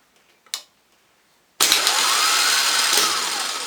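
A Bosch solenoid is energised during a repair test: after a couple of faint clicks and a brief thump, a loud steady electric whirring hum starts abruptly and runs on, close and alone without talk.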